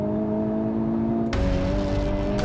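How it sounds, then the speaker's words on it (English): A Honda Civic Type R on the move, its engine droning steadily with an added synthetic engine sound, with a sudden louder surge of broadband road and engine roar partway through, close and continuous with no talking. "increases this synthetic engine noise"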